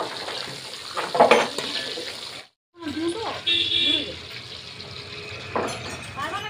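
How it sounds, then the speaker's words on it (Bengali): Luchi deep-frying in hot oil give a steady, noisy sizzle, briefly cut off partway through. Someone talks over the frying. "লুচিগুলো আগে ভেজে নিচ্ছি"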